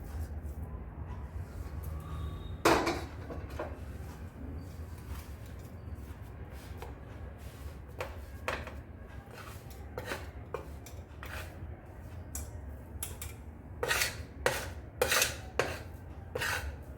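A metal spoon scrapes and clanks against a pan as a jaggery-sweetened mohanthal mixture is poured into a tray, with irregular sharp clinks and scrapes over a low background rumble.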